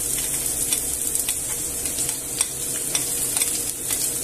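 Mushrooms, garlic and onion brown in a pan for a one-pan chicken stew, a steady sizzle broken by light scraping and tapping of a utensil stirring them, close and alone without talk.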